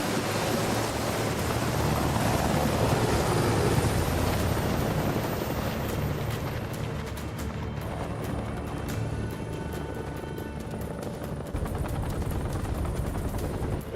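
A helicopter rotor drones steadily in a military video game, loud and continuous, with crackling gunfire bursts and scattered sharp pops layered over it.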